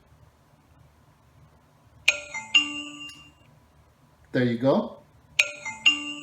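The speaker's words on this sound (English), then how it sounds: "we are going to remotely play a alarm tone" A COOAU 4MP HD outdoor security camera sounds a remotely triggered alarm tone, two-note electronic chimes ringing out twice, clear and close, with a person speaking briefly between them.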